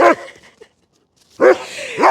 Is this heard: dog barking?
yes